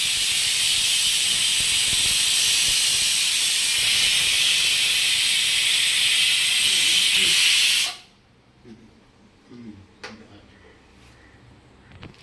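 A pressure cooker cooking mutton lets out a long, loud, steady steam whistle for several seconds, then cuts off abruptly, leaving quiet kitchen clatter and faint movement.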